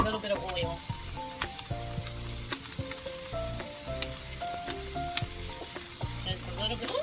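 Hamburger patties for Salisbury steak sizzle in a pan of oil and butter, a constant loud crackle with stirring scrapes, and tonal background sounds running underneath.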